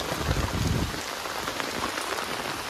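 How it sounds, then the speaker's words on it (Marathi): Heavy rain pours down in Mumbai, a dense, steady hiss of drops pattering on surfaces, loud and continuous with no voices over it. "जोराचा पाऊस चालू आहे आता बघा"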